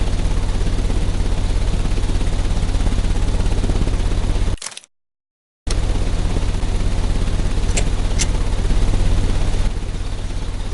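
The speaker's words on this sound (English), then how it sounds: "The engine has started." A steady, loud engine drone runs continuously, cuts out briefly to silence, then resumes just as strongly, with a couple of short sharp clicks near the end.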